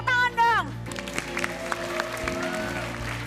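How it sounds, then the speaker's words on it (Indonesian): A TV game-show studio audience claps in a sustained wash of applause, starting after a brief sung or musical flourish, with voices talking over the clapping. "Tepuk tangan dong."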